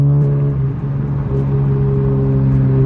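An Infiniti Q50 engine revs steadily at close range, a loud continuous rumble with strong harmonic drone and small dips and swells in pitch as the throttle is tapped, with no voices over it.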